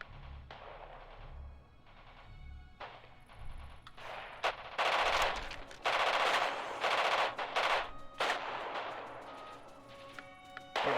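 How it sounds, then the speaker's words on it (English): Video game gunfire as enemies shoot back, with bursts of machine-gun fire and scattered single shots coming in irregular clusters, some distant and some close and loud. "Yeah, they're shooting back."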